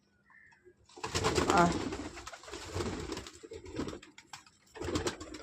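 Pet pigeons coo softly from a loft as their door is opened. Their low, throaty calls come in a few bursts, mixed with shuffling and a person's voice calling out to them.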